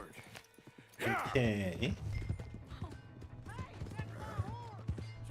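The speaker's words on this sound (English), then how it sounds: "Oh, we stole a horse." Horse hooves clip-clop in Red Dead Redemption 2, a steady trotting rhythm close by, with a whinny early on and a brief spoken word over the hoofbeats.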